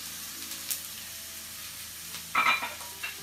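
Onion frying in melted butter for a cheeseburger with caramelized onions: a soft continuous sizzle and hiss, with a louder burst of crackling and stirring near the end.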